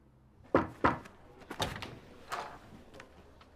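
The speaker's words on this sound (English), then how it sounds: "Oh, you knocked." Knuckles rap on a door in a school setting: two sharp, close knocks land about a third of a second apart, followed by a few softer thuds and shuffles in an otherwise quiet room.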